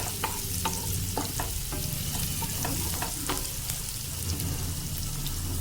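Chopped onion fries in oil with a dense, even crackle as a spoon stirs it in repeated quick scrapes, heard up close and without voices.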